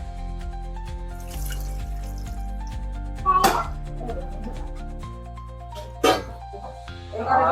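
Water is poured into a cooking pot in a home kitchen, giving two short splashy bursts over a steady background hum, with quieter trickling between them.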